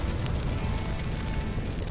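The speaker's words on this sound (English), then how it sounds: "There was a tremendous roar, and then an endless crackling." A vast plain burning in a wildfire gives off a steady, dense roar that fills the whole clip, with broadband crackle and scattered pops layered over a heavy low rumble.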